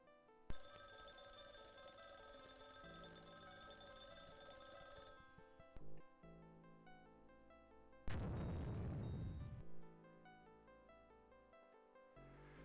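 A telephone rings repeatedly in the game DOSVIDANIYA, a steady electronic bell pattern with a brief loud burst of noise partway through, set against background game music.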